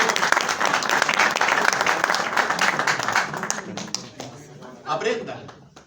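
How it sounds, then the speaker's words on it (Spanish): Audience applause at a Chilean DX amateur radio congress, a dense burst of clapping that gradually thins out, with a voice and cheers emerging near the end. "oye, por favor, un aplauso"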